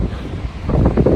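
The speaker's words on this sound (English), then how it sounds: "the wind is picking up." Wind gusting on a hillside trail in the Sierra Nevada, a brief blustery rumble of wind noise hitting the microphone that swells stronger toward the end.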